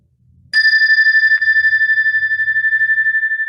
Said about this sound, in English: as I said, we ring the bell